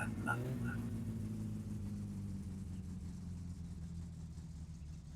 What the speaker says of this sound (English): Yes, it's idling.